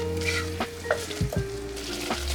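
Béchamel sauce cooking slowly in a pan over low heat, a steady soft sizzle with occasional scraping strokes and thumps of a spatula against the pan, heard close with no voices.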